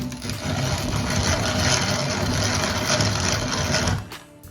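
A grain mill grinds dry, un-nixtamalized corn into flour, giving off a steady, loud mechanical whir and grinding buzz that runs continuously for about four seconds before cutting off sharply.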